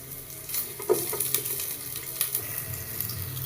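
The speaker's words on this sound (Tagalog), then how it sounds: "gisa natin yung bawang. Lagyan natin yung sibuyas" Garlic and onion sautéing in oil in a pan for mung bean stew, a soft continuous sizzle with a few scraping stirs.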